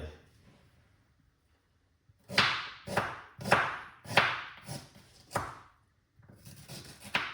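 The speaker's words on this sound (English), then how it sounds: "So I just cut up some ginger" A knife chops through fresh ginger for a Caribbean recipe, landing about eight sharp, close thuds on a board in a quick uneven rhythm after a quiet start, then pausing before a final run of cuts.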